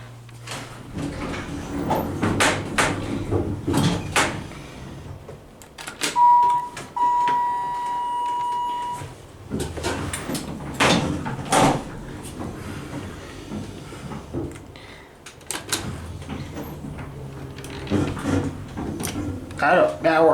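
A Dover Impulse hydraulic elevator at a hotel operates with its door sliding and thudding, a steady tone beeping briefly, and intermittent mechanical clunks, with a person talking over parts of it.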